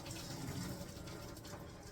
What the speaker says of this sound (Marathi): शिजलेले नूडल्स चाळणीवर टाकायचे असे चाळणीवर टाकायचे म्हणजे पाणी ना निघून जाईल